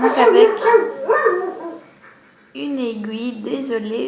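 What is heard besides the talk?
dog barking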